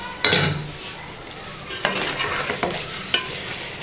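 Tinda, a round Indian gourd, fries in a pan with a continuous sizzle, and a utensil stirs and scrapes it in a few distinct strokes, close up.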